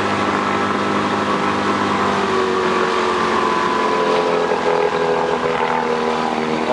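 A boat's outboard motor idles steadily and up close with a continuous droning hum and a faint wash of water around it, without any talk.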